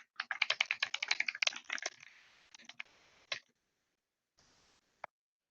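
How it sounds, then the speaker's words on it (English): Rapid close-up typing on a computer keyboard, a dense burst of clicking keystrokes that thins into scattered taps and pauses, ending with a single sharp key press. "I'll type in the chat just in case."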